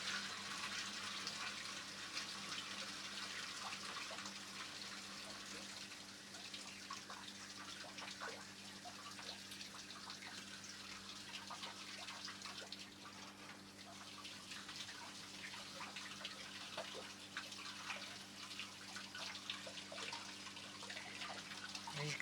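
Watered-down orange emulsion paint poured into a homemade Halloween puking-skeleton decoration, a steady continuous rush and trickle of water running for the whole stretch at moderate level with no talk.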